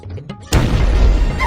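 A Diwali firecracker bursts with a sudden loud bang, followed by a sustained crackling, rumbling blast that fills the rest of the moment after a quieter lead-in.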